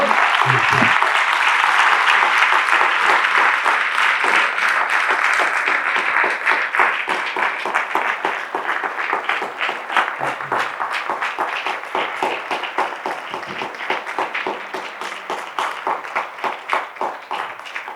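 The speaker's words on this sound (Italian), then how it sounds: "L'ultima cosa, applauso." Audience at an evening talk breaks into sustained, loud applause that holds steady, then gradually thins into more distinct, rhythmic clapping.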